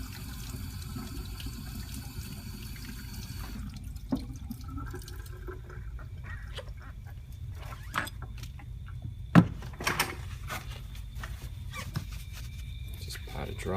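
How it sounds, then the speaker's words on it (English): Tap water runs over a dental wax model being chilled, a steady close stream with a few sharp knocks and drips, while a person talks over it. "Chill the whole thing under water."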